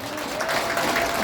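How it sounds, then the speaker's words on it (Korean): A crowd at a presidential candidate's policy speech gathering breaks into a short burst of steady, dense applause. "박수 한번 하겠습니다"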